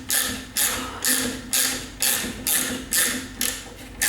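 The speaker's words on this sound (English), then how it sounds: "It's 1/4 inch and 5/16 ratcheting bit wrench." A Facom 1/4 inch and 5/16 ratcheting bit wrench turning in a workshop, its pawl clicking in eight even bursts about half a second apart, close and crisp, with no talk.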